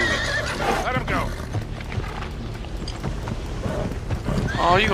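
Horses in the Uncharted 3 video game whinny loudly at the start and again at the end, while hooves clop underneath and voices talk over the scene.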